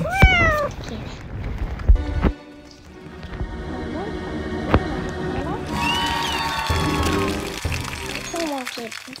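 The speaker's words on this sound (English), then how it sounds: "Two more kittens." Kittens meow repeatedly in high, rising cries, several overlapping, with people talking and a patter like rain in the background.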